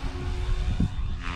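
A radio-controlled helicopter flies nearby with a steady, dense rotor and motor drone, loud and continuous, with no voices.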